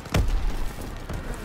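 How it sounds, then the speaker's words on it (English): A grenade goes off in the World War II shooter Call of Duty: WWII, a single low, muffled boom that rumbles briefly and fades. "Tossing out a grenade."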